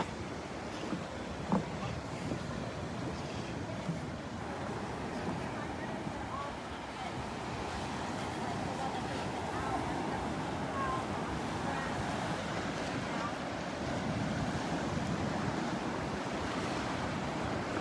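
Surf washes steadily onto the beach beside Naples Pier, a continuous soft rush of breaking waves mixed with wind noise, with no talk.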